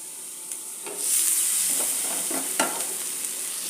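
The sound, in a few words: chopped tomato added to sizzling potato masala in pan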